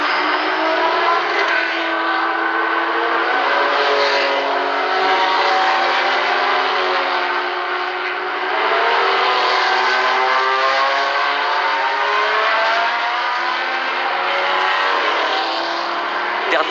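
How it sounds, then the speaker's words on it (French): Race cars, a Matra among them, pulling away on a formation lap, a dense, loud roar of many engines with layered rising and falling revs and no gaps. "le tour de formation est lancé alors que la Matra numéro 9 a du mal à partir"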